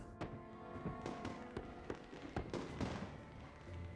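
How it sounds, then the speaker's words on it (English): Fourth of July fireworks bursting over Las Vegas, a series of sharp distant bangs and crackles in irregular rhythm, fairly faint, with no speech over them. "As the 4th of July fireworks lit up the sky over Vegas"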